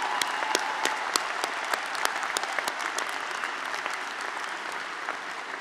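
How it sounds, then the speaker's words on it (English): A commencement audience claps steadily in a large hall, dense and sustained, with scattered sharper claps standing out and no voices over it. "let's have a round of applause for all 4 honorees"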